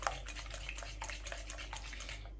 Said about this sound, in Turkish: bir buçuk tatlı kaşığı tuzumuzu iyice çırpalım